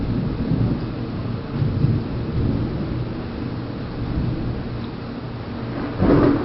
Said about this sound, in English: This is good thunder too.